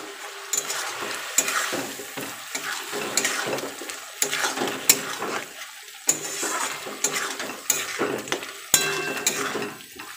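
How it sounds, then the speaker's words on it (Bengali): A spoon scrapes and stirs chicken curry with grated ginger in a hot pan, giving repeated close scraping strokes over a steady, low sizzle. "এবার হালকা একটু নাড়াচাড়া করে নিলাম"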